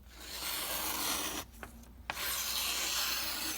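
A Cruwear steel knife blade slicing through rope, a dense rasping rub that runs steadily, breaks off briefly with a couple of sharp snaps, then resumes, close and loud.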